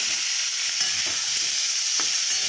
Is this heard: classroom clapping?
no